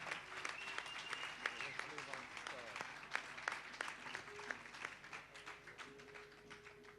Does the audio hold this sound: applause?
yes